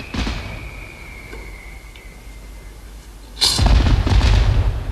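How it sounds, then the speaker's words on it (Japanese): Fireworks: a faint thin whistle hangs over a quiet background, then a single loud, close boom erupts and leaves a heavy rumbling tail. "ああ、あれは花火です。"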